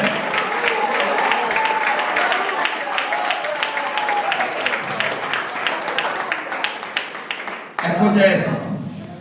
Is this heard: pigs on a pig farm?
no